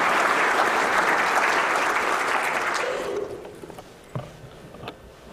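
An auditorium audience at a symposium welcomes a speaker to the stage with loud sustained applause that fades out after about three seconds, followed by a few scattered footsteps and small knocks in the quieter room.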